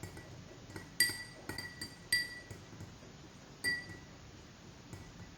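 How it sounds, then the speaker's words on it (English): Salt stirred into water in a glass during a classroom mixture experiment makes about half a dozen faint, irregular spoon clinks against the glass over quiet background. "stir the water in each glass and observe the changes"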